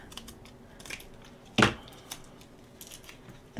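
Scissors make a single crisp snip through excess craft material, close and distinct against a quiet background with faint handling rustles.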